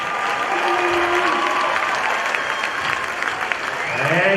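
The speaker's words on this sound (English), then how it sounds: "He needed a second round of applause anyway" Crowd applause in a gym during player introductions at a high school varsity basketball game, a dense steady roar of clapping and cheering with faint announcer tones underneath.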